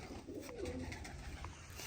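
Soft, low pigeon coos repeat against steady background noise, fairly faint and close by.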